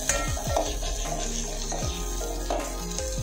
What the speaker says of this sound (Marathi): हे ना तेलामध्ये चांगलं फ्राय करून घेऊया